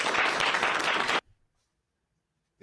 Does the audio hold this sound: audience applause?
yes